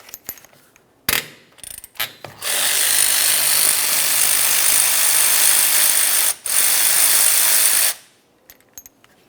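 A 13mm wrench or ratchet loosening caliper slider bolts on a 1994-2002 Ram 2500 rear brake job, a steady loud mechanical whirring for several seconds, likely a power tool, with a short break in the middle, clicks before and after.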